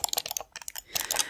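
Fingers type on a computer keyboard in a soft, close stream of rapid clicks, with a brief lull in the middle, set in a French ASMR video-game roleplay.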